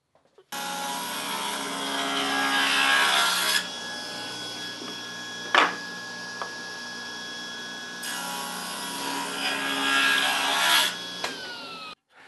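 Bandsaw resawing a wood board down the middle, a steady loud rasping cut running about eleven seconds with the motor hum beneath and a brief knock partway through, no talking.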